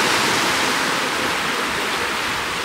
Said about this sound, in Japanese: イエーイ、海です。